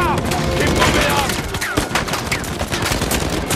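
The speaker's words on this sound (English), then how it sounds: "Blind fire is correct." Blind-fire gunshots in Uncharted 4 come as a loud, rapid volley of repeated bursts, close and continuous throughout, with game audio mixed underneath.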